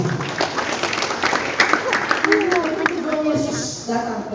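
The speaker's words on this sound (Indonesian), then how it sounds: "Tepuk tangan buat Tuhan." Congregation applause at a Christmas gathering in a ballroom, steady clapping from many hands mixed with voices, with a sung tone near the end.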